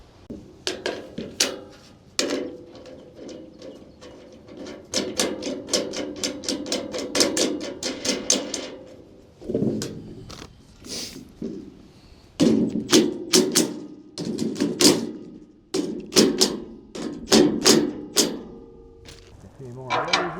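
Metal shed frame posts are bolted together in an off-grid build, with bursts of rapid sharp metallic tapping and clanks, some thuds and brief pauses, while a person talks now and then.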